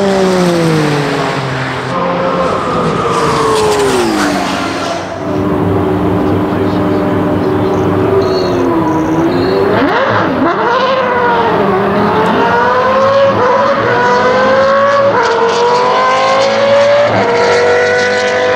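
Formula Supra race car at a World Time Attack event, engine note rising and falling through loud sustained revs with shifting pitch, close and continuous throughout, a voice briefly audible underneath.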